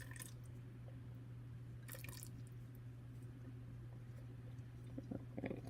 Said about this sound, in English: we're going to add just another splash of wine here,